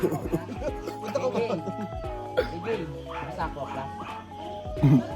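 An American Bulldog yips and barks repeatedly amid chatter and background noise, with a few whimpering tones mixed in.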